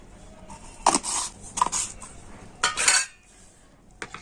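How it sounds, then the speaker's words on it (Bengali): A spoon whisks salted rice batter in a bowl, heard as several bursts of quick clattering strokes against the bowl separated by brief pauses, close and clear, with no talking. "লবণ দিয়ে ব্যাটারটা কিন্তু আবারও আমি খুব ভালো করে ফেটিয়ে নিচ্ছি"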